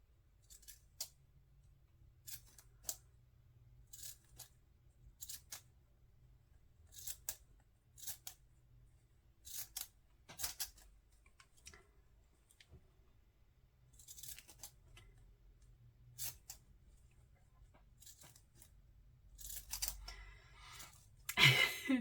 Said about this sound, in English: I'm cutting it with these scissors